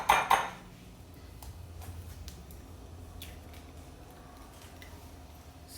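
Fresh brown eggs are cracked and separated in a kitchen, opening with two sharp shell cracks against a bowl followed by quiet, faint clicks and shell taps over low background noise.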